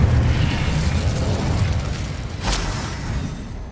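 The Incendio fire spell from the video game Hogwarts Legacy bursts with a loud, rumbling whoosh of flame, building into a dense roar with a brief sharp flare partway through.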